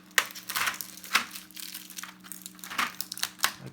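Adhesive tape peeled off the keycaps of a Machenike K500-B61 mechanical keyboard gives a few sharp, close crinkling rips spaced through the short stretch, with no talking.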